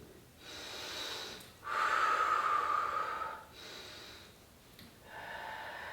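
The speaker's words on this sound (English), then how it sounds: "nice deep breath in" Slow deep breaths during a steel mace shoulder exercise: a soft inhale, a stronger rushing breath, then quieter exhales, close and fairly faint, with no talking.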